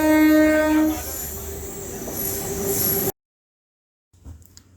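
Loud rumbling night train heading toward Pune, with a long horn blast at the start and high wheel squeal, cutting off abruptly into silence before faint noise returns.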